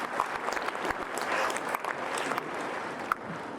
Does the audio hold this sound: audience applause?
yes